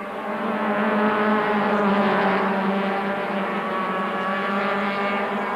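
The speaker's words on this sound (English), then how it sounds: "Race cam action from the Moss Audi" Onboard an Audi touring car racing at Kyalami in 1998, the engine roars loud and steady with a strong harmonic drone that swells slightly and holds at high revs throughout, no talk.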